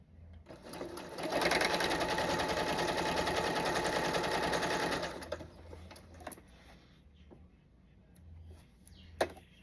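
A sewing machine stitches a quilt block in a fast, steady run for about four seconds, then stops, leaving quiet handling clicks and a few small knocks.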